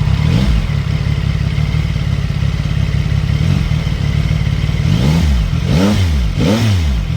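A CFMOTO 675SR-R motorcycle engine runs loud and close, holding a rough rumbling idle before three sharp throttle blips rise and fall toward the end.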